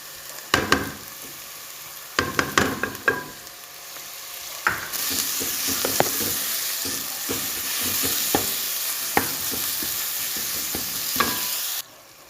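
Onions browning in a pan get ginger-garlic paste stirred in for a dal mash dish, with sharp scraping stirs at first, then a steady loud sizzle punctuated by spoon clicks until it cuts off near the end.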